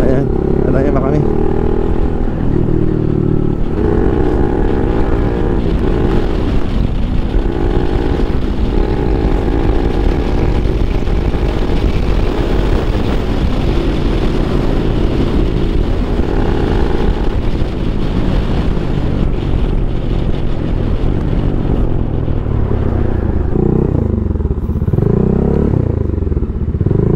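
A big motorcycle engine rumbles loudly and steadily on a road, with passing traffic noise and people talking over it throughout.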